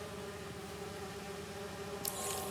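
Bees buzzing in the Marvel's Spider-Man 2 video game, a steady droning hum throughout, with a brief brighter hiss near the end.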